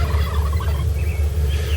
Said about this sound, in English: I finally located a gobbler